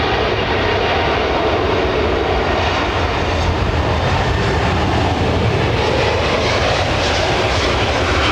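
A Boeing 777-9 airliner taxiing at London Heathrow gives off a loud, steady, broadband jet engine roar that holds without break.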